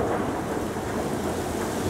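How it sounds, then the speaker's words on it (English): Torrential thunderstorm rain pours down heavily, with dense, continuous roar of rainfall and rumbling thunder filling the whole stretch, loud and close with no talk. "That ain't fog, people. That's torrential rain."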